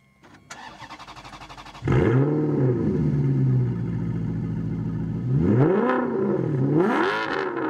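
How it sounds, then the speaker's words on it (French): A V8 car engine, deep and not a typical V8, catches on start-up, then settles into a loud, steady rumble before revving up and down in two strong swells toward the end, with no voices over it. "pour vous faire entendre un peu le son de cette voiture-là, que c'est juste jouissif"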